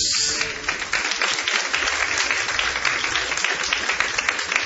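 A church congregation claps together, a loud, sustained burst of applause from many people, close and continuous throughout.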